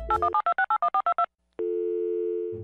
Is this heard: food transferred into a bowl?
no